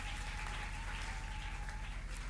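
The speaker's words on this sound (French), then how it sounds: "Applaudissez très fort pour le Seigneur." A church congregation applauds for the Lord with dense, continuous clapping that is fairly faint and even in level, with no voices over it.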